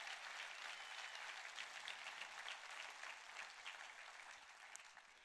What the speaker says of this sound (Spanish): dale un aplauso más fuerte al Señor